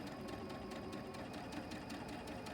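A sewing machine stitches straight across the corners of a quilt block for a maple leaf pattern, with a steady, fast mechanical whir and evenly spaced needle ticks running close and constant throughout, with no talking.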